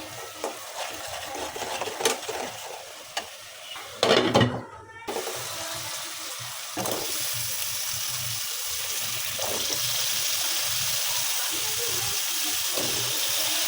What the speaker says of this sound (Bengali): এখন 2-1 মিনিট ভালো করে কষিয়ে নেব